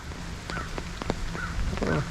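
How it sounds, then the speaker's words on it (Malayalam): Several crow caws sound at middle distance over rain-soaked street ambience in Toronto, with a short burst of nearby noise near the end. "ഇവിടെയൊക്കെ കാക്കൻ്റെ സൗണ്ട് കേട്ടോ."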